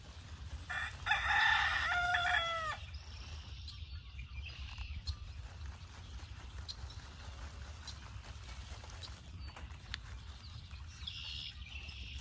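A rooster crows once loudly early on, then quieter clucking and faint crowing continue over a low rumbling background.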